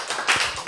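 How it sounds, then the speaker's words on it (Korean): A short burst of clapping from a congregation at a Korean Bible lecture, a few quick, loud handclaps close together over less than a second. "박수."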